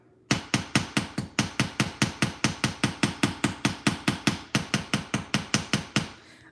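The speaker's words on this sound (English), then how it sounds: "so I'm gonna hammer on top of the tape and see what happens." A hammer strikes textured metal laid over tape in a fast steady rhythm, about two dozen sharp ringing blows close up, with a short pause midway.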